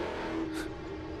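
A James Bond sports car's engine drones steadily and close with a low sustained tone for just over a second, holding a constant rev with no break and no talk over it.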